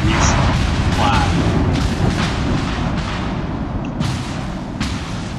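Rapid secondary gun batteries firing from a New Orleans tier 8 cruiser in World of Warships, a dense, continuous barrage of booms and cracks rolling over one another at close range and high loudness.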